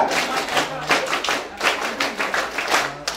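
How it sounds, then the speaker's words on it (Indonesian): Children perform the rhythmic Indonesian scout clap, tepuk pramuka, in a classroom-style gathering: a run of quick group claps in short patterned bursts, close and fairly loud, with faint voices underneath. "Tepuk pramuka."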